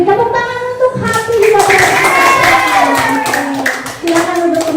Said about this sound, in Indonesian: Tepuk tangan untuk Hati.